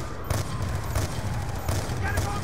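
Gunfire crackles in Call of Duty: Black Ops 2 while a sniper rifle comes out, with repeated sharp shots and bursts over a rumbling battle bed, a voice talking over the action.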